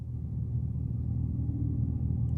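Synthetic Fratzonic exhaust sound from the speaker of a Dodge Charger Daytona EV, a steady, loud low rumble with no rise or fall, picked up on a smartphone microphone.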